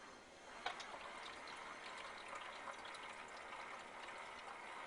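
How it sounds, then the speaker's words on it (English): An Emerson portable ice maker's pump pushing water up into its reservoir, a faint steady trickle with light mechanical ticking, close by and quiet. "you can hear the pump pumping the water up"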